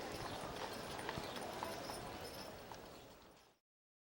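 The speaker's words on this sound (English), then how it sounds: "the horse and buggies going down the main street" Horse hooves clip-clop along the main street of Niagara-on-the-Lake as a horse and buggy passes, a faint, steady rhythm against a broad street and outdoor background.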